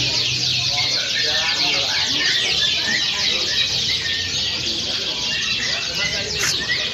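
Many canaries sing at once at a canary judging contest, a dense, continuous high trilling chorus that stays loud and unbroken throughout, with faint murmuring voices beneath.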